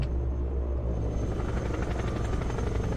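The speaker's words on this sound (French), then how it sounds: "je peux faire en sorte que mes hélicos volent vraiment à ras le sol" Military helicopters in the strategy game Broken Arrow, flying very low to the ground: a steady, loud rotor drone with rapid chopping pulses and engine whine, continuous throughout with no talk.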